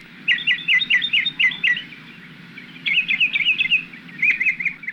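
Local wild birds sing in repeated bright, rapid trilling phrases, clear and fairly close, in two main bursts with short pauses, over a low steady background rumble.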